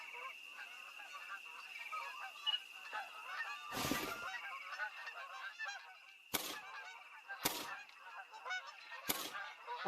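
Geese honk repeatedly at a distance over open outdoor hunting ground, a loose chorus of calls amid wind noise, broken by several sharp gunshot-like cracks.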